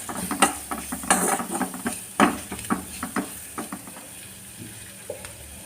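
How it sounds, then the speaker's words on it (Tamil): Ginger and garlic sautéing in hot oil in a pan for Kerala-style chicken pathiri: steady sizzling with a series of sharp spoon scrapes and taps against the pan, stirring busier early and easing off toward the end. "அது நல்லா எண்ணெயில் வதங்கிக்கிறதும் இதோட இஞ்சி பூண்டு சேர்த்து வதக்கிட வேண்டியதுதான்"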